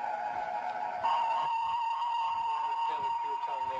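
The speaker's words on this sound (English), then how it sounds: "What you have is you have many tones happening at the same time, and right now they're aligned." Several steady electronic tones sound at once as a sustained, layered signal, holding level for a few seconds with a faint change partway through.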